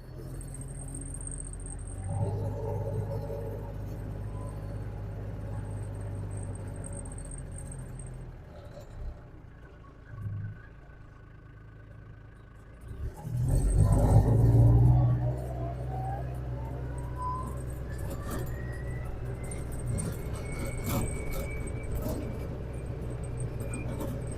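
A vehicle rolls along a rural county road near Tuscola, Texas, with a steady engine and tyre drone throughout and a louder surge of rumble midway, heard from inside the cab.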